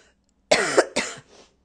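Two sharp coughs in quick succession, close and fairly loud, followed by a softer trailing breath; no talking.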